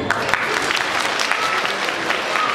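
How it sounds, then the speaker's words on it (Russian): Dense audience applause at an all-Russian dance festival competition fills the hall, a continuous close roar of many hands clapping with no voices over it. "Ваши аплодисменты!"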